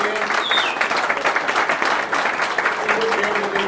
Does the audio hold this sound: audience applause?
yes